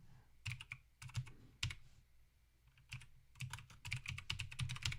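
Computer keyboard typing in bursts of quick, close key clicks separated by short pauses, quiet overall and with no one speaking.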